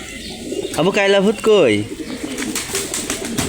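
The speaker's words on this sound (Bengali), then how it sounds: "এই কবুতরের নাম কি" Pigeons coo softly nearby with a few low, throaty calls, heard under and between the voices of people talking close to the microphone.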